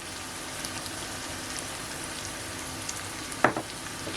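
An eggplant mixture sizzles quietly in a pan, a soft even crackle with one short scrape of stirring near the end and no voices.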